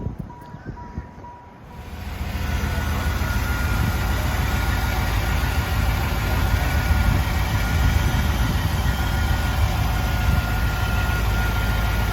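A 1994 Chevrolet Camaro Z28 V8 cranks and fires, then settles into a steady, loud, close idle with a constant low rumble.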